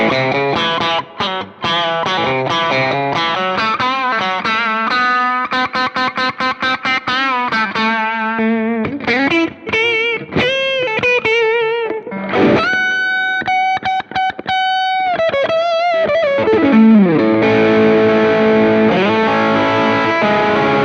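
A replica of a Telecaster electric guitar plays through effects, chorus and distortion, with quick picked runs, rhythmic chord stabs, then sustained ringing notes and bends, loud and continuous throughout.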